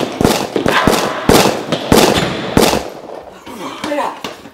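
Sharp gunshots crack out in an irregular burst, several loud close reports spread over a few seconds with a short echoing tail after each blast, and people talking underneath the shooting.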